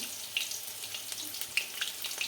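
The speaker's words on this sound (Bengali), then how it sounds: "আর এখানে এদিকে এখনও ভাজা চলছে, লাস্ট মিনিটে আমাদের ভাজা হচ্ছে।" Marinated chicken for chilli chicken sizzles steadily in hot oil in a home kitchen, with soft crackles and a few sharp pops rising over the low hiss, fairly faint and close.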